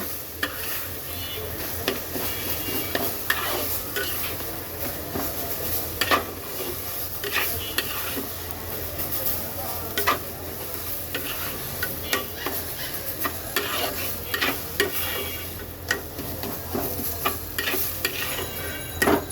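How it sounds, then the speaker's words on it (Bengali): A taro (kochu) bhorta mixture is stirred in a pan over low heat, with a steady soft sizzle under repeated scraping and clinking of a utensil against the pan, close and moderately quiet, with no talk. "এইবার সব কিছু সুন্দর করে মিক্স করব আর রান্নাটা কিন্তু পুরোই তোমার কম আঁচে হবে"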